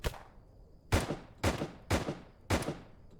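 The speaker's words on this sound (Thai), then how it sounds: "มีคนยิงมีคนยิงมีคนยิงมาแก้แค้นเหรอวะ" Gunfire in the Roblox video game: five sharp, loud shots at roughly half-second intervals, each decaying quickly, with no talking.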